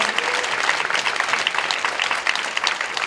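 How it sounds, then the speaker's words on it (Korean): A church congregation at a youth worship service claps together in sustained, dense applause that stays steady and fairly loud throughout, with no speech over it. "우리 SNS 공동체 리더십들을 향해서 우리 사랑과 축복과 격려의 박수 한번 해주셨으면 좋겠습니다"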